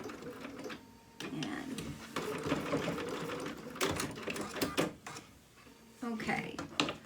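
Domestic sewing machine stitching a dog outfit, with bursts of rapid mechanical whirring broken by short pauses for back stitches, close up, while a person talks over it.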